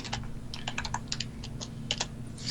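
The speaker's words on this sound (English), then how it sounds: "Core is typing it into chat right now." Someone types on a computer keyboard during a podcast recording, with quick irregular clusters of keystrokes and brief pauses, fairly close and clear with no talking over it.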